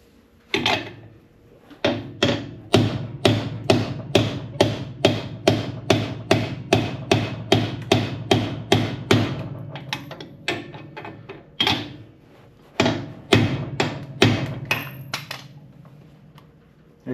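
Brass punch struck with a hammer on the rear end of a 1979 hearse, around thirty sharp metallic taps in a steady, fast rhythm, broken by a short pause before a final burst of blows.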